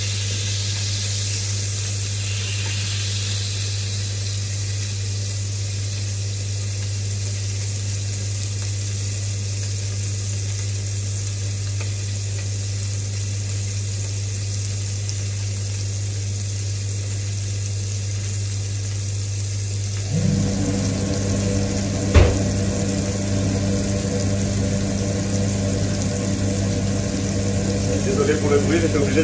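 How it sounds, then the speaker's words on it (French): A kitchen range hood fan starts up partway through while meat sizzles in a pan with crushed unpeeled garlic, a steady close roar joining the frying hiss, with a sharp clack just after the fan comes on. "Désolé pour le bruit, j'étais obligé d'allumer la hotte."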